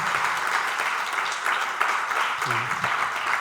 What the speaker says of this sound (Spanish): Un caluroso aplauso para Carlos Gabriel Fernández, por favor